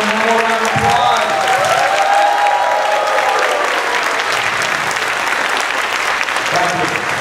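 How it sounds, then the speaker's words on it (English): A crowd at a middle school ceremony applauds loudly and steadily for about seven seconds, with a voice briefly heard over the clapping. "one more round of applause"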